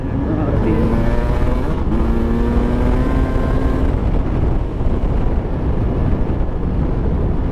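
Husqvarna TE300 two-stroke dirt bike climbing a hill, its engine revving loud and close with rising, stepping pitch through the first seconds, then a dense, rough sustained drone as it keeps pulling upward.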